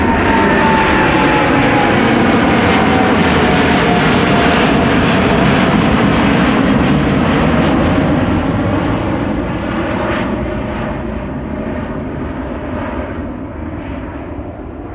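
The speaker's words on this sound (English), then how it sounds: "In the meantime, the Dreamliner, of course." A Boeing 787 Dreamliner departing Amsterdam Schiphol Airport on a sunny day, a loud sustained jet engine roar with a rising whine that holds steady for the whole stretch, then slowly eases as the aircraft pulls away.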